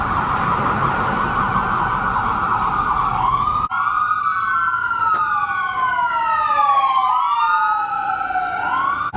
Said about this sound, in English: I lied, it was an ambulance.